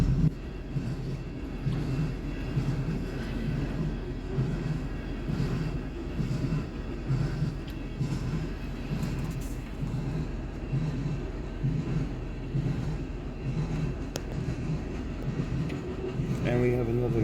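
An IAIS loaded coal freight train rolls past, a continuous heavy rumble with rhythmic low pulses from the cars, running for the whole stretch with a voice talking faintly in places.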